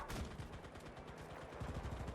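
Rapid automatic gunfire from the World War II shooter game Enlisted, a dense, continuous burst of shots crackling throughout, loud and close with no talk.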